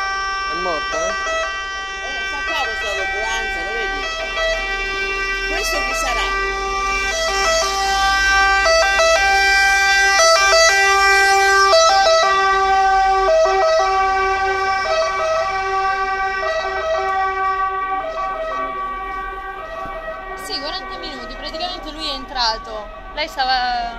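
An ambulance siren wails steadily and loudly for the whole stretch, its tone cycling up and down over road traffic, with people talking faintly beneath it.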